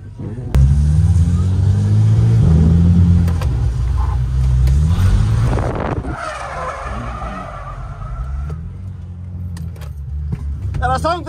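A Volkswagen Jetta TSI Stage 3 drifts with loud, sustained tire skidding and squealing over a revving engine, the screech fading after several seconds as excited voices talk nearby.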